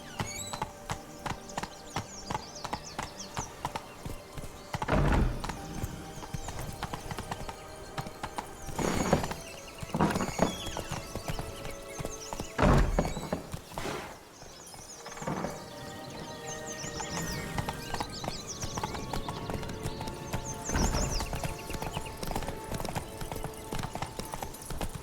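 A horse gallops in The Witcher 3 video game, steady rhythmic hoofbeats close and clear throughout, with an occasional snort or whinny and a few sharper thumps over faint ambient sound.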